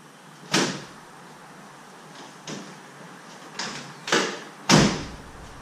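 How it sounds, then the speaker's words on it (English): Door of a 2009 Lamborghini Murcielago swinging shut, a sharp thud followed by several lighter knocks and clunks in a quiet space, each a brief broadband hit. "So I'll go ahead and shut the door here."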